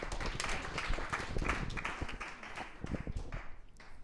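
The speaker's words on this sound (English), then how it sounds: "That applause" Crowd applause fills a hall at an athletics club meeting, a dense patter of many hands clapping at once that swells briefly and then thins toward the end, with no speech over it.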